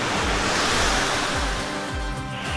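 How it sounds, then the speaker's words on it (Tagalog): Otso Otso Falls in Rodriguez, Rizal pours with a loud, continuous rush of water, a dense, unbroken roar close by with no voices. "susulitin muna namin ang falls na to"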